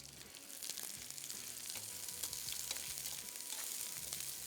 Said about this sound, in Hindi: इसको हल्का सा मैं फ्राई कर रहा हूँ ड्यू ड्रॉप के ऑलिव पॉमेस ऑयल में